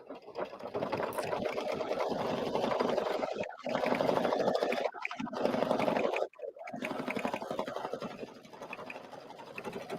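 A home sewing machine runs in steady bursts while stitching a quilted bouquet wrap and garden flag, its whirring motor loud and close with brief pauses and a short stop near the middle.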